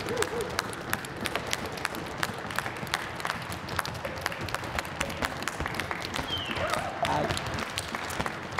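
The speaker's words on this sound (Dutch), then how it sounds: "Dus uw applaus alsjeblieft" A seated audience applauds continuously at a young classical talent award ceremony, steady overlapping claps at moderate distance with a faint murmur of crowd underneath, holding level throughout.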